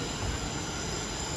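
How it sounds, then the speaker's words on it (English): A London Northwestern Railway electric train pulls out of London Euston, a steady low rumble of wheels and motors with a faint high whine, heard alone at moderate distance. "As off goes the 1146, London Northwestern Railway service to Crewe"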